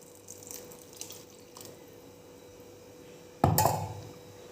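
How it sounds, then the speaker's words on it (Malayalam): Water is poured into a mixer jar to rinse out ground paste for a Kerala-style dried fish curry, with faint drips and clinks first, then a short loud splashing pour near the end, close and alone. "പിന്നെ ഇതും കൂടി വെള്ളം ഒഴിച്ച് കഴുകിയിട്ട് അങ്ങോട്ട് ഒഴിക്കണം"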